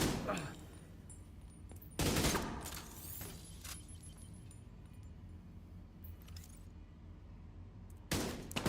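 Bursts of gunfire from an enemy blind firing in The Division break out in short loud volleys, with a few spaced sharp cracks between quieter stretches of game ambience and occasional talk.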